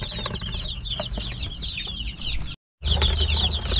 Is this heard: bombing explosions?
no